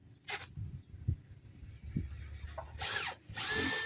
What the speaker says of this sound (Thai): เจาะแล้วก็เจาะเข้าไปเลยคุณพ่อเจาะเข้าไปแล้วก็ดันแห้งๆเลย